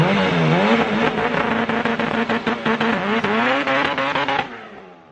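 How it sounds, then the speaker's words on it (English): An all-wheel-drive Honda CRX launches hard in front of a house, its engine revving up loudly through rising and falling gear tones as the front tires spin, then cutting off abruptly near the end. "I'll slap in a little clip right now of the launches right here in front of the house"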